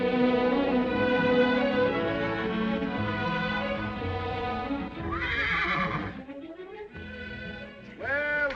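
A small horse whinnies loudly on a street in a 1943 western town, with hoof sounds and a sustained tonal background; a second shrill neigh comes near the end.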